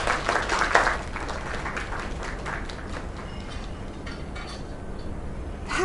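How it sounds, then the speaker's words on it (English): Crowd applause and clapping in the video game Lake, a steady, fairly faint patter of many hands running the whole time with no voices over it. "Another round of applause."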